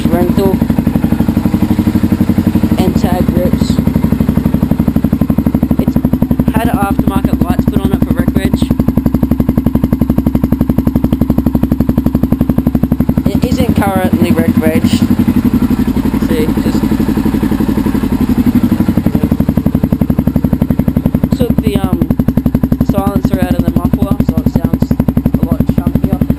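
A stock Yamaha TTR dirt bike with new handlebars revs steadily while being ridden, a loud, continuous engine drone with shifting pitch and rattle, captured close from the rider's position.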